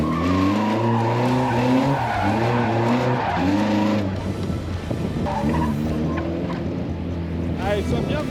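Car tires squeal and skid through a gymkhana drift around cones, the engine revving hard under the long, wavering screech, with a voice talking briefly over it.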